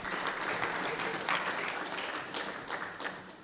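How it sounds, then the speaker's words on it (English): An audience at a University of Limpopo book launch applauds in sustained, dense clapping that holds steady and eases slightly toward the end, with a voice faintly audible beneath. "I think they deserve a big round of applause."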